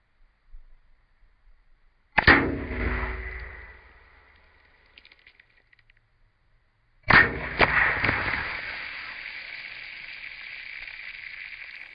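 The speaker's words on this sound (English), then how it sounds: "and now with the rifle" Two sharp .22 rifle shots fired into a penetration test target, about five seconds apart, each a loud crack trailing into a hissing ring, with faint handling noises before the first.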